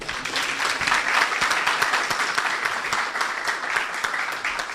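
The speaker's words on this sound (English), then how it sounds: "and therefore they are applauding one more time." A motley audience at a dialogue event on scholarship and leadership applauds, a dense, even wash of clapping that holds steady for several seconds without letting up.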